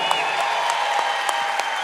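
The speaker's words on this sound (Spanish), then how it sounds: "Un aplauso fuerte para Víctor." An audience applauds in a dense, even wash of clapping with a few faint cheers, steady and moderately loud throughout the brief moment.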